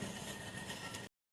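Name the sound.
train moving through station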